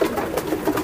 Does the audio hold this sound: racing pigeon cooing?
yes